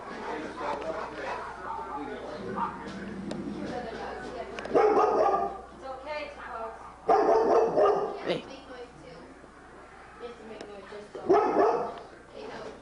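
A pet dog barks at home on Thanksgiving Day in Arizona, with a few loud bursts standing out over steady household chatter and people talking throughout.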